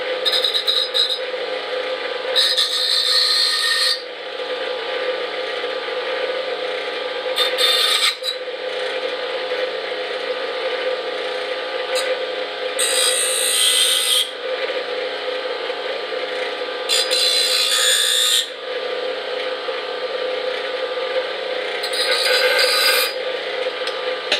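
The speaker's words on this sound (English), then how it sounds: "Now we're going to just trim this a bit." Hand filing or rasping on a part for a homemade DIY lamp, repeated scraping strokes close up in steady bursts over a constant background hum, with no talk.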